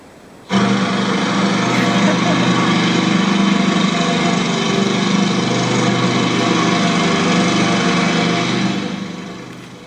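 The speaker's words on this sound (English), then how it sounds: "That's the sound of a lawnmower" A lawnmower engine starts abruptly and runs steadily at close range with a loud, buzzing drone, then fades slightly at the end.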